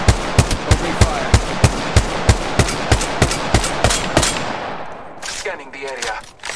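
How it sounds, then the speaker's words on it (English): Rapid gunfire in Apex Legends Mobile: about a dozen sharp, loud shots in a fast, regular rhythm, then a trailing rattle and mechanical clatter as the burst stops. "Opening fire."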